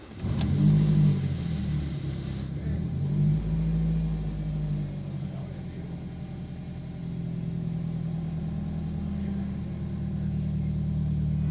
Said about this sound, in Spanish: Y milagrosamente el coche arrancaba, pero no solo eso, sino que el motor sonaba muy fino